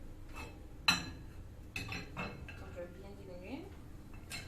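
A metal lid clanks down onto a cooking pot of simmering food, followed by a few lighter clinks and scrapes of cookware nearby, with someone speaking softly in between.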